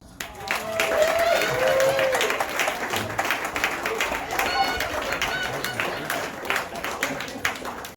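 Audience applause at a comedy roast, a steady burst of clapping and crowd noise that swells early and then slowly fades, with some chatter mixed in.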